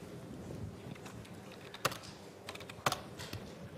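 Soft, irregular keystrokes on a computer keyboard, with two sharper, louder key hits standing out, close and quiet with no talk.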